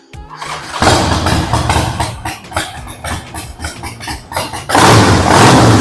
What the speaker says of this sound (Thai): ทีนี้มาฟังเสียงเครื่องยนต์กันหน่อยนะ